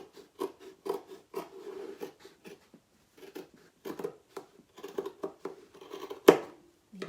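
Scissors snip through fabric in a crafting session, a series of short close crisp cuts with brief pauses, ending in one sharper louder snip.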